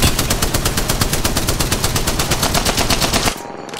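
Rapid automatic gunfire from the Apex Legends video game hammers out in a dense, loud, evenly spaced burst of about thirty shots, then cuts off abruptly, leaving a quieter tail.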